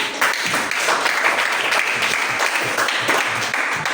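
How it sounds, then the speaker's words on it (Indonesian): A class of eighth-grade students claps together in a classroom, producing steady, dense applause that holds at an even level for the full four seconds. "Oke, tepuk tangan."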